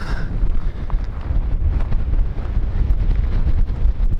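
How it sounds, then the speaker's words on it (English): Strong wind whipping across a high mountain trail near a 13,000-foot peak, a loud, continuous roaring buffet hitting the microphone throughout. "that wind is whipping"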